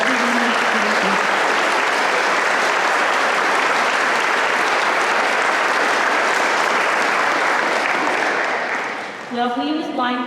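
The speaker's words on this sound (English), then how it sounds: "Let's give it that round of applause" Audience applause at a Veterans Day program: a loud, sustained wash of clapping from a large crowd runs for about nine seconds, then fades out as a voice begins speaking near the end.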